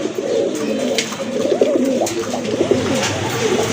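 Bombay pigeons coo steadily at a busy pigeon market, several birds overlapping in a continuous low, throaty burble with occasional louder calls and faint background bustle.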